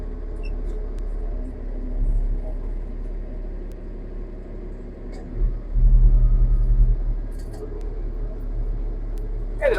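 A John Deere 7000 planter runs on a farm driveway, a steady low mechanical rumble with rattling parts that swells louder around the middle and then settles, with no talking.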